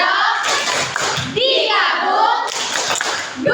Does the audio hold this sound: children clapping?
yes